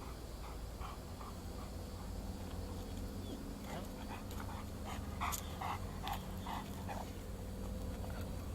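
A dog trained not to fear loud bangs pants steadily and quietly close by, with soft rhythmic breaths over a low background hum and a few faint clicks.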